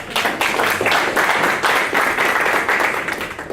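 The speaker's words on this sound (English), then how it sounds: "So would you give him a round of applause?" A crowd at an evangelism workshop claps and applauds loudly and steadily, a dense wash of many hands that holds throughout before easing slightly at the end.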